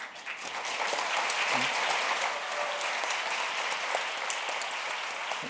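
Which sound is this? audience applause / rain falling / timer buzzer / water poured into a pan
audience applause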